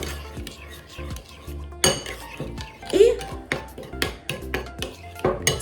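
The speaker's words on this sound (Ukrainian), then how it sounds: "Додаємо сіль, вимішуємо." A spoon or whisk clinks and scrapes against a bowl as a sauce of mayonnaise, sour cream, kefir and Svan salt is mixed, producing an irregular run of close metallic taps and knocks with some louder strikes.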